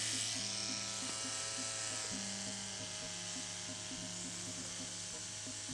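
An inexpensive cartridge tattoo machine runs steadily with a slightly rattly electric buzz, close and constant throughout, with faint background talk.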